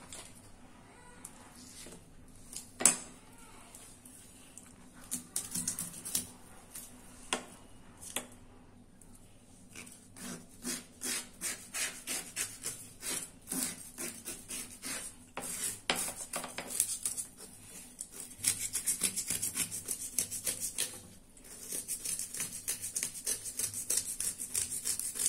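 Scales are scraped off a whole fish with a blade at home before cooking, working along the second side. Rhythmic rasping strokes come in quick bursts with brief pauses, close and fairly loud, with no talking.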